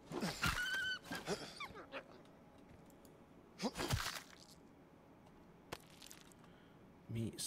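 A dog in the video game Vorax barks and whimpers a few times in short bursts among clicks and game noises, with someone talking faintly underneath.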